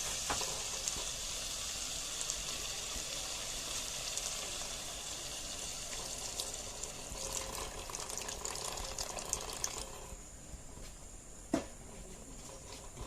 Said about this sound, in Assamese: এতিয়া আমি ইয়াত অলপ পানী যোগ দিম।